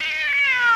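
A single short, loud cat meow with a clear tonal pitch that slowly glides downward, heard close and alone.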